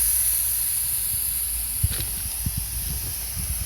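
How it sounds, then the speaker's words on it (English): A Gilmore hose nozzle sprays water outdoors onto underwatered impatiens, a steady soft hiss running throughout with a few low thumps and knocks near the end. "this Gilmore hose nozzle is my favorite shape"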